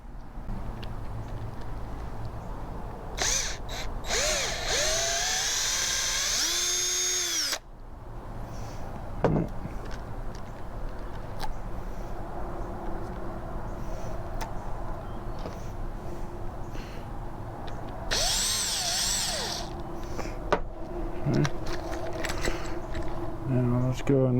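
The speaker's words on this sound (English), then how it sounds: "we're going to drill that out." A drill bores out part of a Minelab Excalibur II metal detector headphone in two whining bursts, close and loud, separated by quieter handling and clicks, with a person talking in between.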